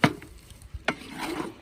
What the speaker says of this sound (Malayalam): അപ്പോൾ ഇതിനകത്ത് butter egg oil മിക്സിലേക്ക് garlic മിക്സിലേക്ക് rice